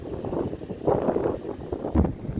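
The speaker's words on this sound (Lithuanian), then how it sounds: "Vėjas stipriausias, ledinis." A strong, icy wind on the Black Sea coast buffets the microphone in rough, rumbling gusts that swell and fade over a couple of seconds, with no voices.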